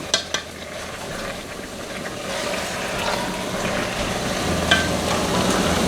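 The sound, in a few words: venison and vegetable stir fry sizzling in a pan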